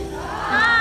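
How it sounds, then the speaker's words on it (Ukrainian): A crowd at a mass wedding in Kamianets-Podilskyi cheers and shouts, a loud, dense wash of voices that swells toward the end of the brief moment. "Ваші оплески."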